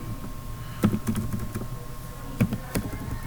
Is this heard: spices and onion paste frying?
no